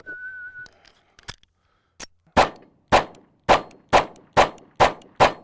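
Kimber Micro 9 pistol firing on a range, seven sharp evenly spaced shots ringing out loud and close after a brief whistle and a few small clicks.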